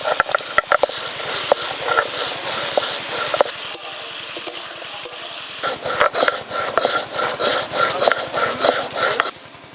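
Still-hot whole spices are ground by hand on a stone grinding slab, producing close, rhythmic scraping and knocking strokes in a steady back-and-forth pattern that quickens toward the end.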